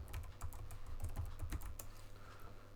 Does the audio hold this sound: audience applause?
no